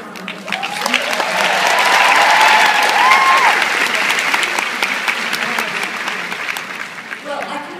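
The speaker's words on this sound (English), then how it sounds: "Let's give her a round of applause." An audience at a Mary Kay seminar breaks into sustained applause that swells to full loudness and then slowly thins, with faint crowd murmur underneath.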